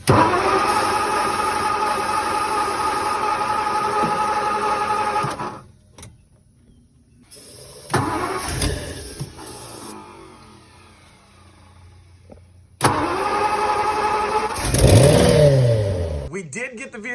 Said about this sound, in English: We did get the vehicle to turn over